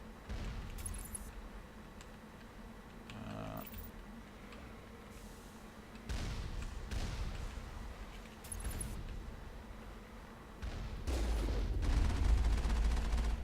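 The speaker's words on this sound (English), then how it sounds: "we're getting pelted with rockets by these slow and highly ineffective turrets" In Mass Effect, slow turrets on the Moon lob rockets that land as dull, muffled impacts and rumbles every few seconds. A low steady game drone runs underneath, and a heavier rumble builds near the end.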